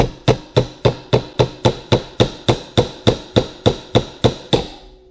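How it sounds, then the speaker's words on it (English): A hammer taps on an engine valve in a cylinder head, about fifteen evenly spaced sharp metallic strikes with short ringing decays, close and loud. "Now I'm gonna go ahead and give it a few taps with the hammer."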